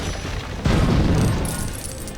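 A cannon fires in the Lego Pirates of the Caribbean Wii game: a single deep boom bursts out and rumbles away over a low hiss of background game sound.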